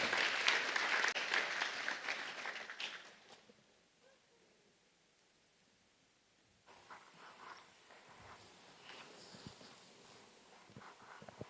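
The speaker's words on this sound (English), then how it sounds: "Give an outstanding applause to our speakers," Audience applause for speakers at a panel event on humanity and AI, a dense burst of clapping that fades out after about three seconds, followed by quiet room tone and faint shuffling and movement.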